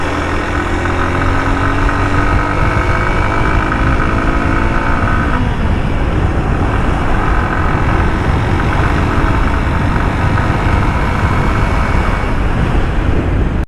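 A car engine hums steadily at speed on an open highway toward Mymensingh, with loud, constant road and wind roar. A tonal whine dips partway through as the vehicle accelerates. No voices.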